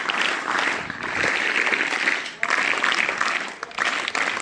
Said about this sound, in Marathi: टाळ्या वाजवून स्वागत करायचं आहे